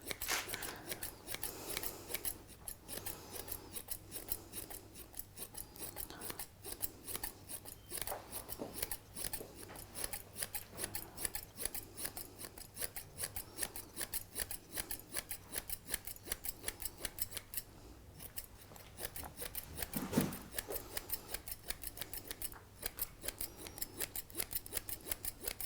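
Sharp scissors snip rapidly and repeatedly, close and quiet, while trimming a springer spaniel's coat during show grooming, with short bursts of cutting and brief pauses.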